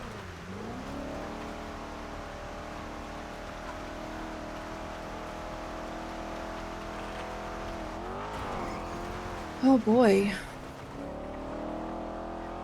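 A car in the NoPixel GTA roleplay game drives with a steady engine drone. Revs swell briefly near the end, followed by a sharp, high tire squeal. A man briefly exclaims over it.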